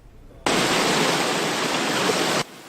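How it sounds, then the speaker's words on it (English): Floodwater rushes across Causey Road, a highway in Crawford County, after heavy rain, a loud, steady broadband roar like a waterfall that starts abruptly and holds for about two seconds before cutting back to a low background hiss. "What should be a solid highway, now part rushing river."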